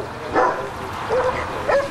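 An Amstaff-Rottweiler mix dog gives three short, yippy barks spaced about a second apart, close and fairly loud, with muffled whimpering tones between them.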